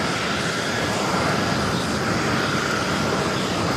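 A DHL Boeing 777 freighter arriving at JFK from Anchorage, a loud, steady jet engine roar filling the short stretch without a break.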